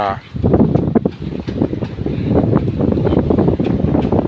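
Strong wind buffets the microphone at Bang Saen beach near a fishing spot, a steady loud rumble throughout, with someone talking over it.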